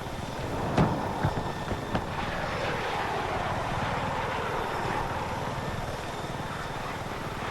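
A helicopter engine in the video game Battlefield 6 hums and whirs steadily in the background, a continuous rotor drone with a few sharp knocks early on and faint voices now and then.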